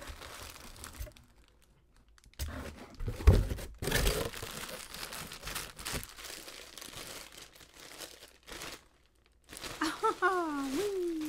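Small packets from an adult colouring haul box being unwrapped, with close crinkling and tearing of wrappers in bursts separated by pauses, and someone speaking at times over the handling.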